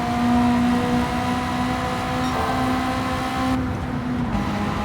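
An Autobianchi racing car in Gran Turismo 7 droning through a tunnel, its engine a steady loud buzzing whine with a resonant echoing tone, holding pitch then briefly dipping before carrying on.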